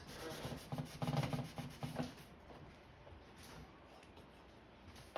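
Wood stain being rubbed into wood by hand, rhythmic close rubbing strokes for about two seconds, then quieter scattered scuffs.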